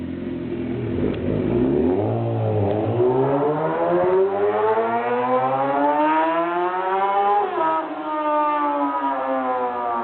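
An MV Agusta F4 inline-four motorcycle engine revs hard and alone, its pitch sweeping up and down through repeated high-revving pulls, loud and close throughout.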